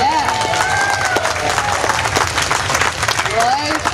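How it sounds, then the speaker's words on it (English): A crowd at a wildlife park show claps and cheers. Bright whistles and a lively voice ring over the clapping, fairly loud and close throughout. "Loads of clapping."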